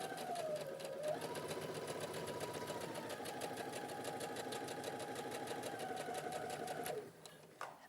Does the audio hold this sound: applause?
no